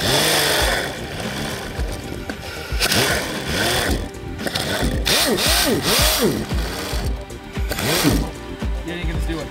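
A restored vintage two-man chainsaw cuts wood, its engine revving and bogging in uneven surges with rising and falling pitch, loud and close, running nearly without pause through the clip.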